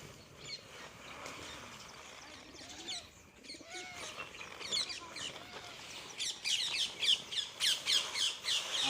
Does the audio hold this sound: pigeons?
yes